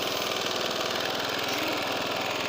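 A small Briggs & Stratton 375 Sprint lawn mower engine runs steadily at idle, a continuous rattling hum with a fast regular pulse, alone without voices.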